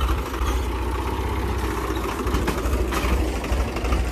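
A tractor engine runs in a farm field, holding a steady, rough mechanical drone at close range without letup.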